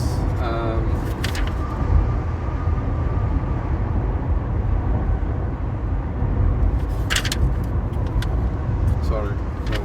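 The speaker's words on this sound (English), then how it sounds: "Sorry, there's a car in there." A car drives past, its road rumble running steadily underneath a person talking throughout, with a faint metallic jingle near the start and end.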